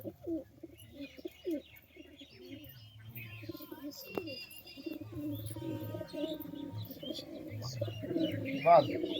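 Andhra pigeons coo softly and repeatedly at close range, low throaty calls in an uneven rhythm with a few faint chirps and scattered background sounds between them.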